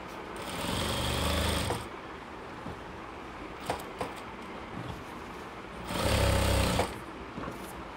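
A sewing machine stitching a nightie runs in two short bursts, each about a second long, separated by quiet handling noises and small clicks.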